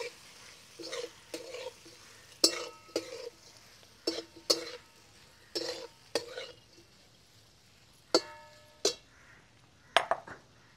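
A spoon stirs pumpkin curry with crushed peanuts in a pan, giving quiet, irregular bursts of scraping and clinking against the metal, with short pauses between strokes.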